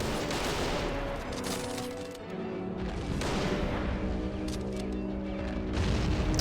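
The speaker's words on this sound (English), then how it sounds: "they're just taking pot shots from the grass" Dense gunfire from the Men of War strategy game, a continuous loud barrage of overlapping rifle and machine-gun shots with booming impacts and barely a pause.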